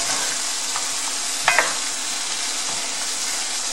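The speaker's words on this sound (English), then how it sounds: "I'm gonna let the onion cook a little bit before I add my green onion" Onion stir-frying in a pan for a Thai chicken and vegetable stir fry, a steady close sizzle with a couple of brief clinks of a utensil stirring, no voices.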